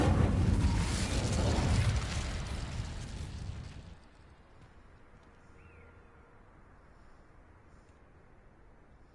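An Incendio fire spell in Hogwarts Legacy bursts in a loud, roaring blast that swells for a couple of seconds, then drops away abruptly into a quiet, low ambient background.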